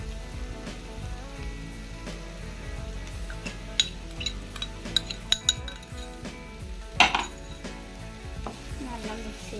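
Chopped chicken goes into a pan of cooked masala for a chicken pasta and is stirred, with a low sizzle under repeated metallic clinks and scrapes of a utensil against the pan, a few sharper knocks standing out.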